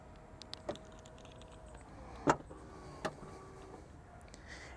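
Powered tailgate of a 2021 Hyundai Santa Fe closing at a button press: faint motor whir with soft clicks and a couple of sharper latch knocks, quiet and close, no talking over it.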